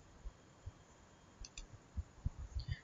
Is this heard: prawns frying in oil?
no